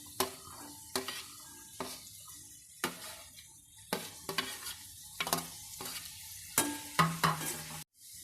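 Chopped carrots and beans sizzle steadily in a hot pan for rava kichadi, broken by a string of sharp scraping stirs roughly every second, close and fairly loud, with no talk.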